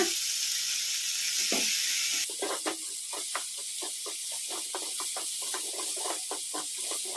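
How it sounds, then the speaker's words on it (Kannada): Tomatoes fry over a medium flame in a pan for fenugreek leaf chutney, a steady close sizzle broken by a quick run of rhythmic stirring clicks and scrapes. "ಈ ಥರ ಕಲಿಸ್ಕೊತ ಫ್ರೈ ಮಾಡ್ಕೋಬೇಕು"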